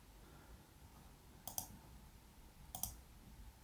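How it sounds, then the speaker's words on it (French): Two crisp computer mouse clicks, very faint and close, spaced about a second apart against near silence, with no talking, while working in an Excel pivot table. "Et je clique sur"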